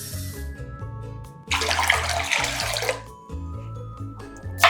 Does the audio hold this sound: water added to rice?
yes